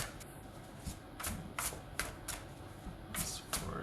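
Tarot cards being shuffled by hand in a series of quick, papery riffling bursts, close and fairly soft, with short pauses between.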